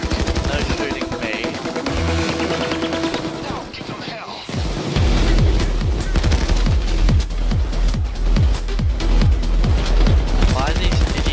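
Rapid gunfire in the Payday heist video game, bursts of shots and loud booms that give way to a sustained, rhythmic automatic volley, with voices talking over the shooting.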